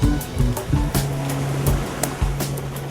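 Surf washing onto a sunny beach at Kozhikode, a steady close roar of breaking waves with repeated bursts of spray and foam, no voices.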